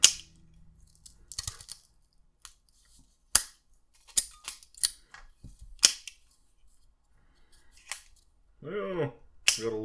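Cigars are cut and lit, giving a scattered series of sharp, close clicks and snaps separated by near silence. A brief voice is heard near the end.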